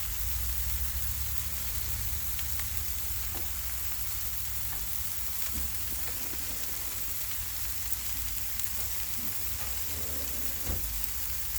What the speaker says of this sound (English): we'll add a little more butter to that and just let that saute right in